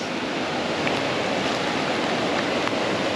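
The Darling River in outback New South Wales flows past a riverside balcony with a steady, broadband rush of water. It is loud, even and close, like white noise, with no speech.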